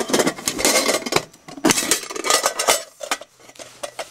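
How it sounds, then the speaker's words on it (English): A WW2 military mess tin, a metal frying-pan-and-plate set, is handled up close, giving a run of irregular metallic clinks and scrapes throughout with no talk. "This is sort of mess tin."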